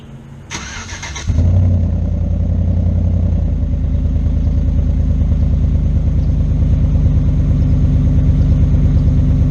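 A new truck fires up on remote start with a short cranking burst and then settles into a steady, deep idle, its exhaust burbling loud and close for several seconds, with no voices.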